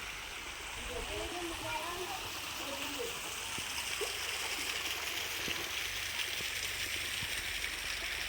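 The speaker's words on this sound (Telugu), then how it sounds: "ఇక్కడ నుంచి కూడా చిన్నగా వాటర్ అయితే ఫ్లో అవుతుంది చూడండి" A small trickle of water at Kona waterfall makes a faint, steady outdoor rush that runs throughout, with a brief murmur of voices early on.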